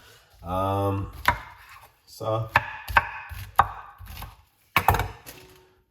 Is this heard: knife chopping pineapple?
yes